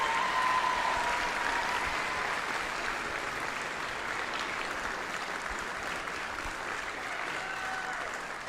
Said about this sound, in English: How about one more round of applause for an amazing job by the Wind Symphony?